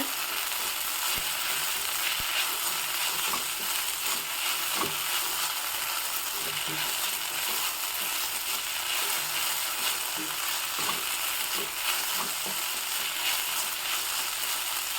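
Coriander seeds and cumin frying in oil in a home kitchen, a steady close sizzle with faint irregular clicks and taps of stirring throughout, without any talking.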